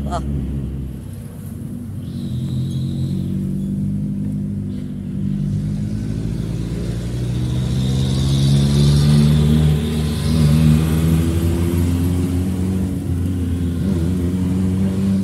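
A jeep engine revs and accelerates nearby, its rising, rumbling drone climbing in pitch over about fifteen seconds on a road, while voices talk over it.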